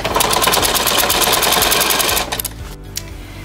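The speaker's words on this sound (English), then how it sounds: "So at my domestic machine now, I will stitch the rest of that binding to the quilt top" A domestic sewing machine stitches fabric binding onto a quilt top, its rapid, even mechanical chatter running loud and close for about two seconds before it slows and stops, followed by a few light handling clicks.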